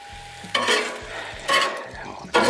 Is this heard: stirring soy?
yes